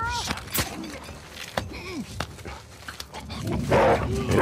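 Dogs bark during combat in The Last of Us Part II, with several close yelps and barks scattered among gunfire, crashes and shouting game voices.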